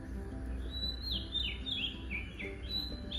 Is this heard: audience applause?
no